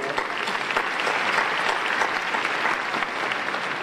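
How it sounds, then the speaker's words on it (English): An audience claps in sustained, even applause, a dense crowd of hands heard at moderate distance throughout, with no speech over it. "So give yourself all a round of applause for that."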